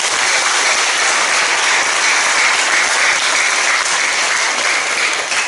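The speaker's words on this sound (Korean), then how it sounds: "우리 박수로 한번 감사드립니다." Congregation at a joint Korean church worship service marking the 100th anniversary of the March 1st movement claps in thanks after a special sermon, a loud, steady wash of applause lasting several seconds with no talking.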